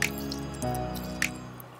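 Water pours into drinking glasses set in a row, giving trickling, dripping splashes with a couple of sharper drip hits and a faint ringing tone underneath, close and fairly quiet.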